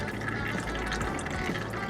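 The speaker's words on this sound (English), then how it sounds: "we got the oil draining from the oil plug over there" Engine oil drains steadily from an oil drain plug, a continuous close splashing trickle with no pauses and no talking.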